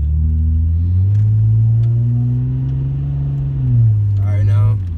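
A car driven by a 13-year-old learner accelerates up a stretch of road, its steady engine rumble rising and holding close throughout, with people talking over it.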